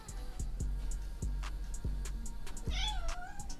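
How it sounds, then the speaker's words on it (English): A house cat near a microphone gives a short, faint meow near the end, after a run of regular low thumps and soft clicks from the cat shifting on the mic cord. "My cat just hopped on the mic cord."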